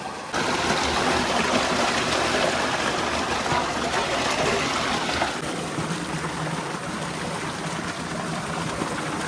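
Water gushes steadily from a village tubewell, a dense continuous splashing rush that stays loud throughout and eases slightly in the second half, with faint voices under it.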